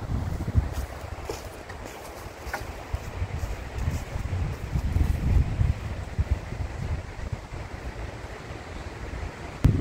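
Strong storm wind gusts outdoors in a garden during tulip bulb planting, a loud continuous rushing roar buffeting the microphone, with no talking.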